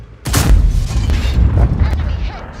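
A tank gun fires a shot in World of Tanks: a loud, booming blast with a sharp onset, its heavy low rumble sustained and slowly fading.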